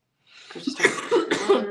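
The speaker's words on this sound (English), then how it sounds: "I still have the remnants of a cough" A single close, rough cough with a few quick bursts, starting abruptly from silence and trailing off within a couple of seconds.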